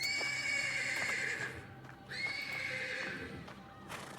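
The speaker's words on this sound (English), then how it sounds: "The persistent neighing of a horse can be heard from the stables." A horse in a stable neighs repeatedly in the video game Black Book, high whinnies rising and falling in long bursts with a faint clatter of hooves underneath, fairly close and loud.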